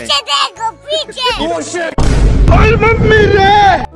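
Cartoon-style bursts and warbling effects, then a loud rumbling bomb explosion that rolls on with crackling noise, with excited voices over it.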